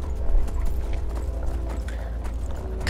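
Horse hooves clip-clop at a steady gallop while riding in the video game Skyrim, rapid close thuds over a deep rumbling game background, with no voices.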